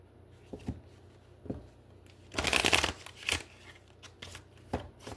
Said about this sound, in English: we're gonna do 3 shuffles here